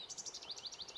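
A small bright yellow bird chirps in a quick, even series of short, high tweets, about a dozen in a second, close by and fairly soft, with no talking.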